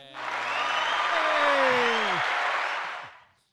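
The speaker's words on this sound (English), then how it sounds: "Listen to that crowd" A crowd cheers and applauds at a live sports talk show, a dense burst of clapping and shouting that holds for about three seconds, with a whistle-like sliding tone in the middle, before dying away.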